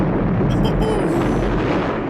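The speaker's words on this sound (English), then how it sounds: "That is a very aesthetically pleasing explosion." The gas station explosion from the 1982 film First Blood plays as a dense, loud roaring blast with deep rumble and crackling debris, sustained throughout without any break.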